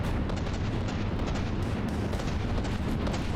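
Cram cannon fire in a From the Depths battleship battle comes as a dense, continuous roar of booming shots and blasts, loud and unbroken throughout with no distinct gaps.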